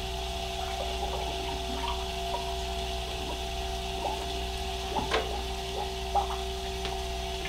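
Water streams steadily through a PC liquid cooling loop in a Caselabs S3 case, a constant hum with a faint trickle and occasional small ticks and clicks, close and even throughout.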